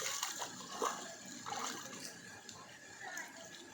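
Water splashing and pouring into a container holding live catla fish at a pond in Arambagh, a steady wash of falling water with small sloshes, with voices faintly audible under it.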